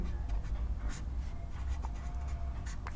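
Marker or chalk writing on a board during a worked math lesson, with short scratchy strokes at about one, two and three seconds over a steady low room hum; no one speaks.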